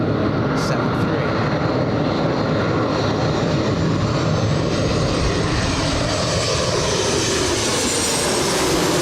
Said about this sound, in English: Southwest, a 737. This one is flying in from Oakland, California.